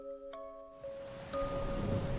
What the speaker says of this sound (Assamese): দবা পিটা বৰষুণ, চাৰিওফালে কেৱল ভেকুলীৰ আৰু জিলি পৰুৱাৰ মাত